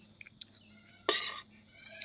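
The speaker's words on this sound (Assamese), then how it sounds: "মই ভাবিছিলোঁ যে আমাৰ ছাগলী পোৱালিটোৱে মাত দি আছে পিছফালে দেই" A tied-up baby goat behind a house gives a short, sharp bleat at mid-distance, followed by a few fainter calls, against a quiet background.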